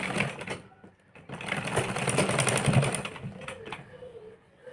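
A sewing machine stitches a blouse in a short steady run that starts, pauses briefly, then continues, close and fairly loud.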